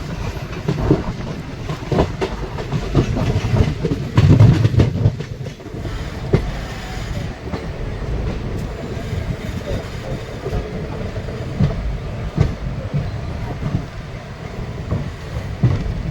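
Katwa–Nimtita passenger train rolling slowly into Azimganj Junction in the early afternoon, with a steady low rumble and rhythmic wheel clatter on the rails, loud and continuous throughout with no voices.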